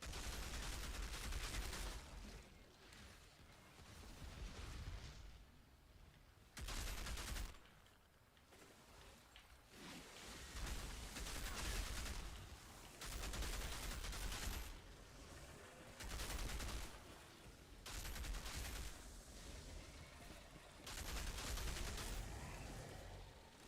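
Gunfire in the shooter game Outriders, heavy bursts and sustained volleys that come in repeated waves with brief gaps between, loud and dense, no voices on top.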